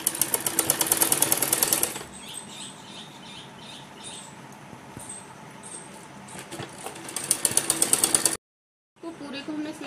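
A domestic sewing machine stitches piping around the neckline of a baby frill top, its loud rapid whir running in short bursts at the start and end with quieter handling noise between and a brief cut of silence near the end.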